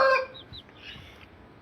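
Backyard country chickens, including Kadaknath birds, clucking close by in short squawks after a brief burst of background noise, then quieter scattered calls.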